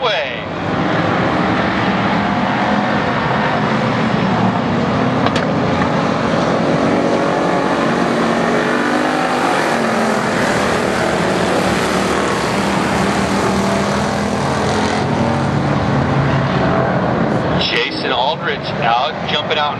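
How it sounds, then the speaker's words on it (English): Pure stock cars in an enduro race at Barona Speedway roar loud and steady, a continuous dense engine din under a race announcer's talk throughout. "As we look for the green flag out of turn 4, your Pure Stock Enduro race underway."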